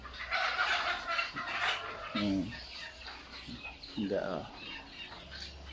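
Chickens at a coop give short, scattered clucks and squawks at close range, while someone talks over them.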